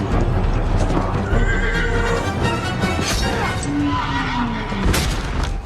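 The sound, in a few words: horse neighing and galloping in film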